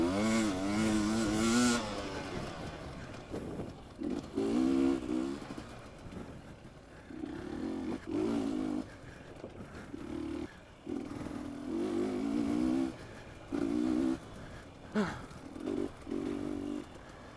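Dirt bike engine during an Open D harescramble race on a Torc's Rusty's trail, revving in repeated bursts with strong harmonic whine that rises and drops, loud and close, separated by brief gaps.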